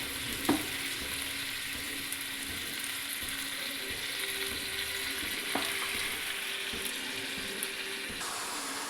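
Chicken pieces fry and get stirred in hot oil for a Gondhoraj chicken dish, a steady close sizzle running throughout with occasional clinks of a utensil against the pan and no voices.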